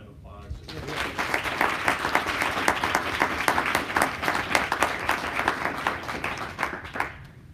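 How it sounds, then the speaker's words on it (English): Audience applause for the speakers at a digital health leadership summit, a dense burst of clapping that swells quickly and holds steady for several seconds before thinning out near the end. "So if we could give them a round of applause."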